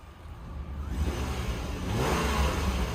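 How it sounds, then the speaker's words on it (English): A 2002 Subaru Outback H6 engine idles and hums steadily after starting, the pitch rising slightly as it revs a little, heard close with no talking. "you can hear just how healthy this car sounds"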